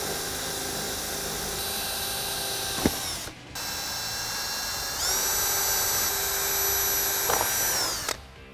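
A power drill bores holes through the tailgate of a 2018 Jeep Wrangler JL, whining loudly and steadily in two long bursts, the pitch sliding as each run winds down, with a short gap between.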